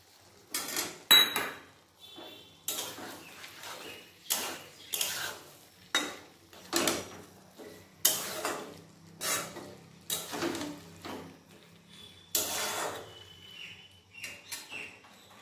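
A spatula stirring poppy seed paste (posto) with bottle gourd stems, eggplant and potato in a metal pan over a low gas flame, giving repeated close scraping and clanking strokes at an uneven rhythm with brief faint chirps between them.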